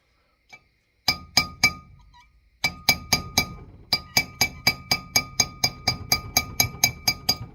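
A punch lightly tapping new wheel bearing races into place during a rotor and wheel bearing install, a steady series of sharp metallic clinks in quick groups, close and alone with no talk.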